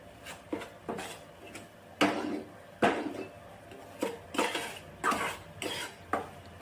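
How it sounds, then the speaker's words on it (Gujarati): Wheat flour roasting for aata halwa is stirred in a pan with a utensil, giving repeated close scraping and clinking strokes in an uneven rhythm, with no voices. "સરસ રીતે મિક્સ કરતું જવાનું છે અને હલાવતું રહેવાનું છે।"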